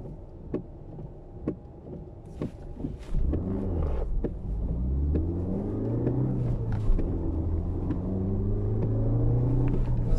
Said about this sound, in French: Vous entendez le bruit du moteur?